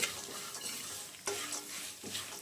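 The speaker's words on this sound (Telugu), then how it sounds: "ఒకసారి కలుపుకొని ఇలా బాగా కారం అంతా బాగా కలిసే కారం ఉప్పు అంతా కలిసేలాగా కలుపుకుందాం" Dry chili powder and salt being stirred together in a pan for a spicy puffed-rice snack, a soft scraping swirl with a couple of sharper scrapes, close and alone.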